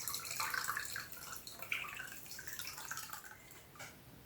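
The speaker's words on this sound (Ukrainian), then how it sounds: "воду зливаємо і обов'язково міряємо, скільки води пішло в банку" Water poured off a jar of tomatoes being pickled, a steady trickling and dripping stream with small splashes, close and fairly quiet, with no talking.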